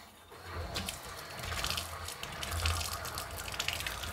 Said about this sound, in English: I'm gonna open this tap and see what happens